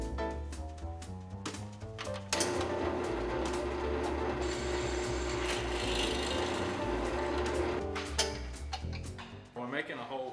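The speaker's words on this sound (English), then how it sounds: "So we drill the metal out with a number 7 drill bit, which is the correct size for this hole." A drill with a number 7 bit bores into metal in a machine shop, a sustained steady whine that starts abruptly after a few clicks and runs several seconds before stopping, with a voice talking before and after.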